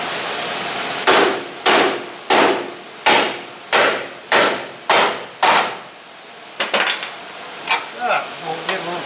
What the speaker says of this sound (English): Now we'll take a pretty red hammer. This is a dead blow hammer.